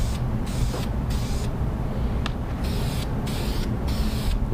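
Spray gun laying an even coat of paint on Camaro hoodliner flags: a steady close hiss that runs the whole time, its airy top end cutting out and returning in short pulses as the passes stop and start.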